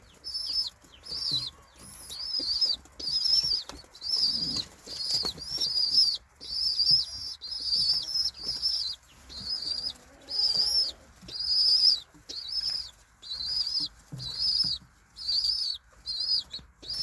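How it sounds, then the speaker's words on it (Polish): Rhythmic bursts of high, squeaky chirping and fluttering wings repeat about every second, close by, like young pigeons begging while being fed. "Tutaj teraz widzicie jak gołębie karmią młode."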